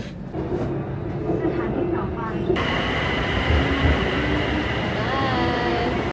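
A train ride home in Bangkok: a steady rumbling rail roar runs throughout from inside the carriage, with a brief whining tone shift partway and faint voices in the background.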